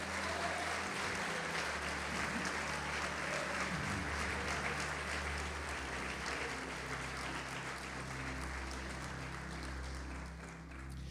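A church congregation at a worship service claps steadily, with dense sustained applause from a large crowd and low musical tones humming underneath for the whole stretch. No one speaks over it.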